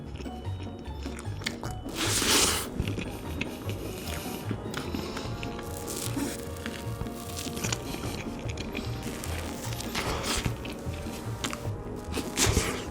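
A crispy, fluffy meringue-like snack with a crunchy outside and a very soft inside, bitten and chewed up close: several sharp crunchy bites, the loudest near the start, followed by steady wet chewing with no talking.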